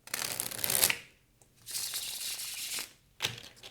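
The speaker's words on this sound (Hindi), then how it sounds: "Okay, one last shuffle." Tarot cards are shuffled by hand in three brisk riffling bursts, close and fairly soft, separated by short pauses, with no voices.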